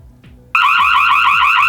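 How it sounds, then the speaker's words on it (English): A solar-powered outdoor security camera's alarm siren blares suddenly after a brief quiet, holding a loud, steady piercing warbling tone right up close. "So you heard the alarm is quite loud."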